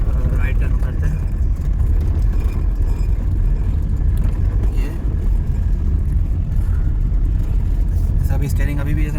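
A Suzuki Mehran with newly fitted power steering drives and turns right, its engine rumbling continuously from inside the cabin while someone talks over it.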